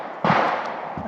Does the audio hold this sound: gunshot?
yes